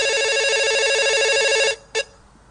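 A telephone ringing from an incoming call: a loud, bright electronic ringtone plays steadily, stops abruptly, then gives one short final blip before a quiet room tone.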